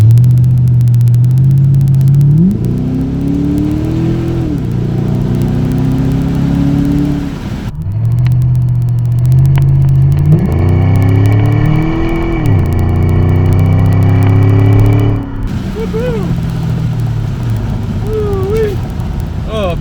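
A 2007 Ford Mustang GT V8 revs and pulls through the gears while driving, its engine note rising and dropping in repeated sweeps, loud and close with a steady rumble underneath.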